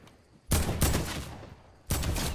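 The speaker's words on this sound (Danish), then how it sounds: "Jamen, jeg skyder på ham." Loud, close bursts of rapid gunfire from a Fortnite match, with two sustained volleys separated by a short lull and a sharp opening crack, and no speech over them.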